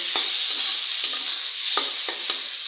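Vegetable bhaji fries in hot oil with a steady sizzle, broken by several brief stirring scrapes at irregular intervals, close and moderately quiet.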